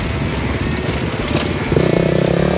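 A 250 trail motorcycle engine runs steadily nearby with a rough, buzzing drone, then revs up a little higher and louder toward the end.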